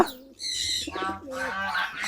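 Young racing pigeons at their loft give soft, rolling coos and a few brief calls, close by, with faint movement in the background and no talk.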